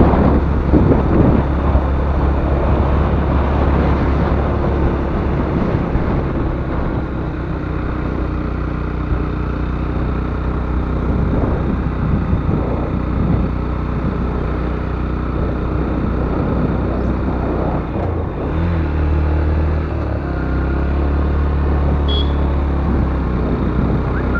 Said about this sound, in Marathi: घाटामध्ये बाईक चालवायला खूप मजा येते मला